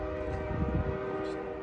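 Amtrak Coast Starlight passenger train number 14 with a P42DC locomotive arriving at Oakland Jack London Square, its horn sounding a sustained tonal blast over a low rumbling engine and rail noise.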